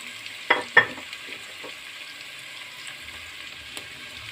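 Quiet sizzling in a pan as diced potatoes, carrots and onion are sautéed, with a couple of sharp stirring scrapes early on, then soft continuous frying.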